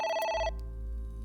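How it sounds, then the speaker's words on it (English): Telephone bell ringing in the video game AI: The Somnium Files, a bright repeated electronic ring that stops abruptly after half a second, leaving a low background hum. "Ring, ring. Oh? Oh! It's the phone."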